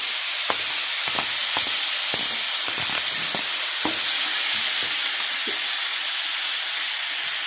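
Tomato and bell pepper slices fry with chicken in a pan, a steady bright sizzle broken by repeated scraping and clacking strokes of stirring, close and without talk.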